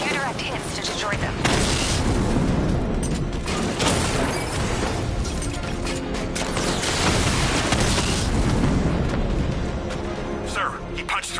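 Tank 60mm cannon fire and explosions in the Batman: Arkham Knight video game, dense booming blasts and mechanical rumble, loud and continuous, with voices talking over the action.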